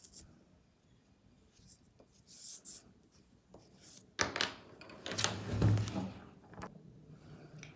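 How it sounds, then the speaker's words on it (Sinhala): Pencil drawing fine lines on paper, sketching a croton leaf, a soft close scratching that comes in short strokes and grows into a denser, firmer rasp in the second half. "එතන අපිට පුළුවන් සියුම් රේඛාවක් අඳින්න මේ විදියට."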